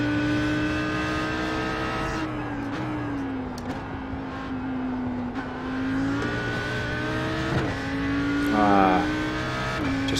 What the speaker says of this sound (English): Just caught the rev limiter up into 4th, or into 3rd rather